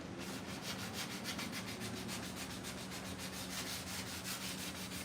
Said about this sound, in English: Most of this sands out pretty quick